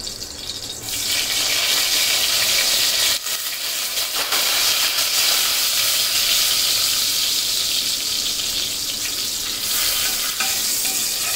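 Two bay leaves and three small star anise flowers crackle in hot oil, a loud, steady sizzling hiss that swells after the first second and holds, with a few faint stirring scrapes and no talking.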